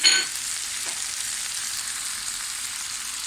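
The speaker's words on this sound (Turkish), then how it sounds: "Baklalarla birlikte Yumurtalar da pişecek." Eggs fry alongside fava beans in a pan, a steady close hiss of sizzling oil that runs unbroken throughout after a brief louder burst at the start.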